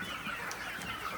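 Native country chickens on a small 300-bird village poultry farm cluck faintly in short, scattered calls over a soft background hum.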